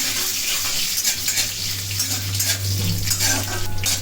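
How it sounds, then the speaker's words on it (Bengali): Chopped garlic and cumin are stirred and mixed in a hot pan, giving a steady close-up sizzle with rustling and scraping of the spoon, no voices. "ভালো করে মিক্স করে নেওয়া হচ্ছে"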